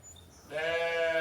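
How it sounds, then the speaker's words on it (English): A single sheep bleats loudly and close by near a barn, a drawn-out wavering cry following a moment of quiet rustling. "all the sheep up at the barn are throwing a hissy fit right now"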